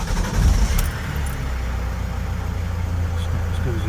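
A campervan's diesel engine starts from cold after a hard-starting spell, a rough burst in the first second settling into a steady, fairly loud idle with a low continuous drone.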